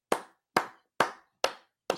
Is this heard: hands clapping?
yes